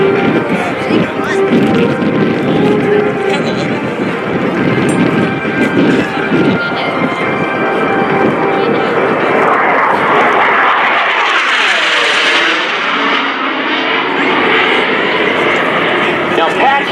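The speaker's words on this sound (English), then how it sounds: "At your far right, you will see the aircraft coming in for the traditional low pass." An AV-8B Harrier II jet makes a low-speed pass at an airshow, its loud engine roar swelling and sweeping past with a rising, shifting whine around the midpoint, steady and dominant throughout with wind buffeting the microphone.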